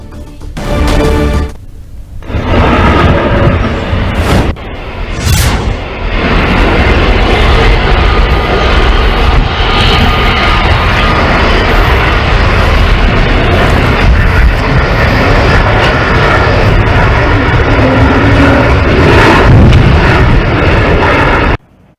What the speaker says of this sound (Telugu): శంషాబాద్ ఎయిర్పోర్ట్ లో విమానం అత్యవసరంగా ల్యాండింగ్ అయింది